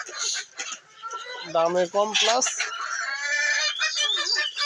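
Fayoumi chickens cluck repeatedly while feeding on cabbage leaves, with a rising burst of clucking in the middle, heard close under a man's speech.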